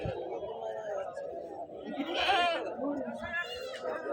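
Goats bleating at a busy Saturday livestock market in Anantapur, with a couple of clear bleats rising over steady crowd chatter and nearby talking.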